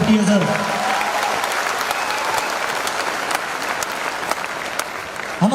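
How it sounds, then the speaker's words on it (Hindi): Sustained audience applause from a crowd at a motivational talk, steady and dense clapping throughout with a brief swell at the start and end. "ताली जोरदार वाली बजा लीजिए"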